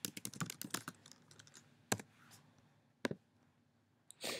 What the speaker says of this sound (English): So I just type it again.